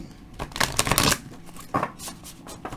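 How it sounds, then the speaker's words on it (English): A Psychic Tarot card deck is shuffled by hand, giving quick riffling bursts of card flutter, a longer run then a shorter one, close and crisp with no talking. "And I can shuffle them because they're not too horribly huge."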